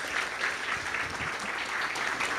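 A crowd claps steadily and enthusiastically, a dense, continuous applause filling the room without a break.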